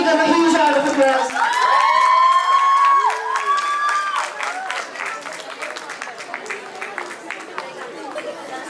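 A crowd at a closing ceremony breaks into loud applause and cheering, dense clapping with shouts and whistle-like cries that gradually settle into steadier clapping and chatter.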